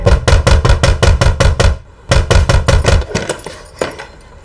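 Rapid, heavy knocking on a door in a crime drama comes in two loud rhythmic bursts of hard raps, followed by a few scattered, fainter knocks.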